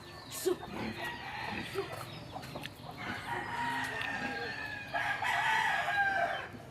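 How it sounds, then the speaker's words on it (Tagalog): Chickens cluck nearby while a rooster crows loudly toward the end, with other farmyard birds and faint voices in the background. "Dami, may manok, may baboy."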